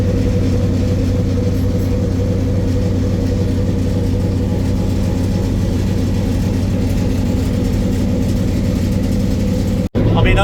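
Old submarine engines running inside the vessel, a loud, steady low rumble with a droning hum that holds throughout with barely a pause.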